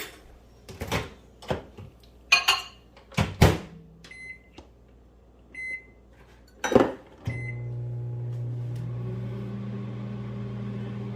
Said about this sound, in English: let's just get this in the microwave for a minute and get it melted